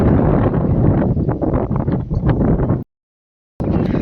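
Loud, blustery wind buffets the microphone in a continuous roar, cutting out abruptly for a moment before the rushing noise returns.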